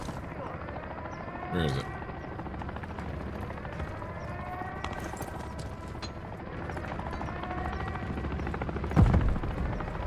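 The rotor chop of a helicopter in the video game Modern Warfare III whirs steadily at a distance through a battle, with a couple of sharp impacts and voices talking over it.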